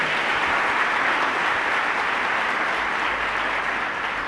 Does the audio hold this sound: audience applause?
yes